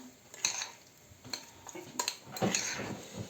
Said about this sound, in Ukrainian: І знову розмішую.